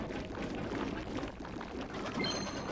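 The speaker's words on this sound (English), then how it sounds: "Well, I'm throwing this water." Water thrown around in the game Nintendo Switch 2 Welcome Tour gives a steady, soft sloshing and pouring wash, fairly faint and continuous, with no talking over it.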